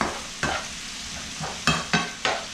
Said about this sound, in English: it's just a really good bacon. It doesn't burn when you fry it up